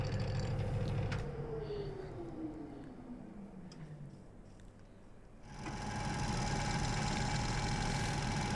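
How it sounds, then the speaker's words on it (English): A wood lathe spins a massive bog oak bowl blank held in a chuck while a bowl gouge cuts the foot, giving a steady motor hum that slows with a falling tone, then returns as loud continuous cutting noise. "we are creating the foot or the pedestal on the bottom of this bowl now with the bowl gouge"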